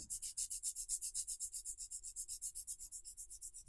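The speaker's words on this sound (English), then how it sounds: "Shaping the free edge is my third step in filing" A nail file is held almost flat and rubbed back and forth to shape an oval sculptured nail. It makes a soft, close, rhythmic scratchy rasp, about seven strokes per second, with no talk.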